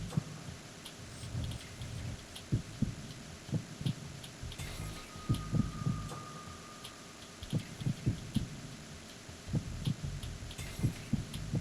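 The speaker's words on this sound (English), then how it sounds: "It still feels like I'm hearing 2 hearts." Heartbeat sound effect from the Metal Gear Solid 2 video game: a steady run of soft, low thumping pulses, some in quick doubled pairs, over a faint background hum with no talking.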